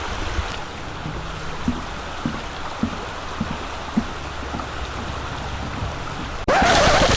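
Stream and waterfall water rushes at Desoto Falls in Georgia, a continuous broadband roar with soft footstep-like thuds scattered through it, swelling louder near the end.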